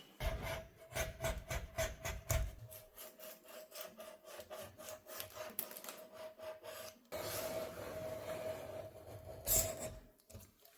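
Grout being scraped out from under the tiles beside a bathtub: steady rhythmic rasping and grinding strokes, close and loud, with a continuous whine underneath and a rougher stretch of scraping toward the end.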